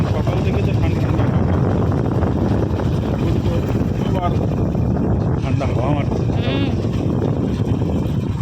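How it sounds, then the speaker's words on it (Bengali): Loud, constant low rumble of wind buffeting the microphone throughout, with faint voices and a few animal-like calls in the background. "খুব হাওয়া হচ্ছে"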